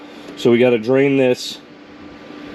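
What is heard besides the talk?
electric fan running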